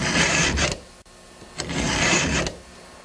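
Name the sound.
file sharpening a saw or chainsaw chain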